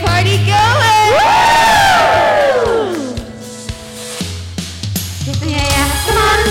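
An audience at a Leap Day party stage play cheers, whoops and shouts loudly together, with sung voices rising over the crowd before the noise settles into scattered calls and music.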